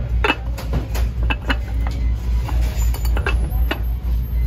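A lid tried on a vintage dish, with several light ceramic or glass clinks and taps scattered over a few seconds against a low background hum, and no one speaking.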